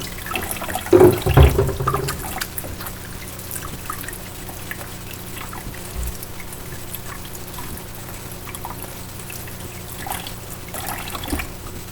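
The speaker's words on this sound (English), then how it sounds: "Now, wash your hands with some soap and water" Running tap water splashes over hands being washed with soap, a louder gush early on, then a steady trickle and soft rubbing sounds close by.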